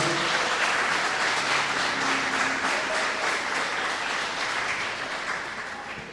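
A church congregation applauds steadily, dense clapping filling the room throughout and easing slightly toward the end.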